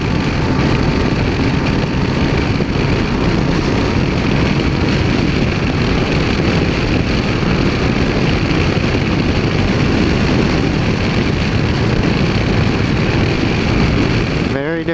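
A Honda CTX1300 motorcycle engine drones loudly and steadily while riding, its low rumble mixed with heavy wind buffeting, continuous throughout with no clear gear changes.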